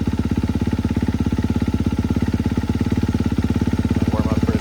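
A stock Honda CRF250R dirt bike with factory pipe and motor idles steadily up close, its rapid even exhaust pulses loud and alone.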